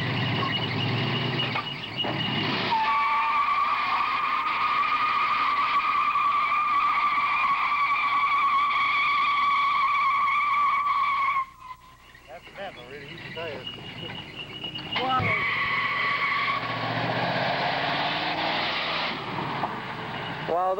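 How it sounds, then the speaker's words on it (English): Car tires squeal loudly and continuously under hard braking at a Ford ASSET driving class, a long sustained screech that cuts off, then more skidding squeals start again, with voices talking under it. "You gotta brake a little harder, Eric."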